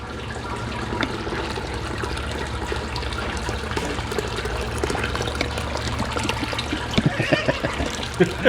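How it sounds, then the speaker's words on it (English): Water pours steadily from a hose onto the mash in a Brewzilla homebrew system for sparging, a continuous splashing rush with a few sharper splashes near the end. "we're just using this hose to dump water on top here for the sparge"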